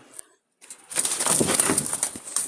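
Female Jalali pigeons flutter and hop about at close range, with a sudden burst of wing flapping and scuffling after a brief quiet start.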